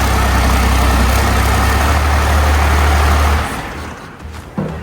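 A Cummins diesel engine swapped into a Camaro Z28 idles with a loud, low, steady rumble for over three seconds, then cuts off and falls quiet, with a brief clunk near the end.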